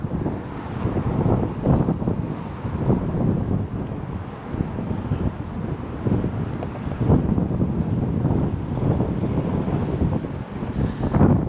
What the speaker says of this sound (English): It's very windy here, so I don't know if you can hear me at all